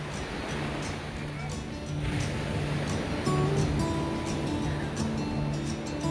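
Waves breaking at the Sainte-Anne anchorage in Martinique, a steady broadband wash of surf with gentle swells rising and falling, while a voice talks faintly over it.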